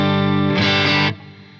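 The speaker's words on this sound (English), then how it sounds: "I've loaded up a Friedman amp, the Bugs and Betty setup, edge of breakup, clean" A clean electric guitar chord played through a Friedman amp simulation set at the edge of breakup, ringing out loud and sustained before dropping to a softer decay.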